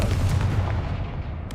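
A Confringo blasting spell detonating in a Harry Potter video game, a deep booming rumble that rolls on and decays over a second and a half.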